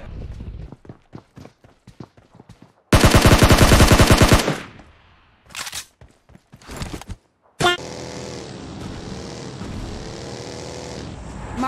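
Automatic gunfire in the BGMI battle royale game: a long loud burst of rapid shots, followed by a few shorter bursts and then steady in-game noise.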